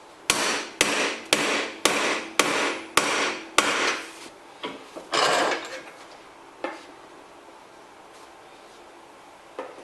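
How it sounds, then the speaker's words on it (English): A hammer strikes a metal e-bike part held in a vise, about seven sharp, evenly spaced loud bangs followed by a few lighter, scattered taps and a fading ring. "Give it a couple of smacks"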